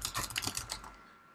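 A short burst of quick keystrokes on a computer keyboard, close and fairly quiet, with about six or seven clicks that die away into silence.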